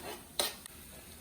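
Pepper and onion for a breakfast skillet are stirred in the pan, with a low sizzle and two quick scrapes of the utensil close by.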